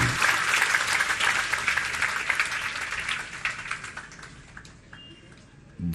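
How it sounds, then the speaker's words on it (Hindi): Sustained audience applause at a spiritual discourse by a Jain monk, dense clapping across the whole stretch that thins and fades slightly toward the end before a brief renewed burst. "ताली बजाते जाओ अपने लिए"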